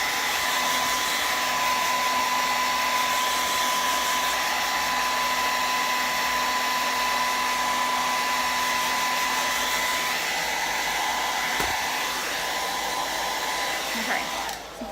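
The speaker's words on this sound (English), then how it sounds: "a really light dry to that with a hair dryer" A hair dryer blows steadily and loudly on a light coat near taped edges, a constant close-up whoosh with a faint hum, easing slightly near the end.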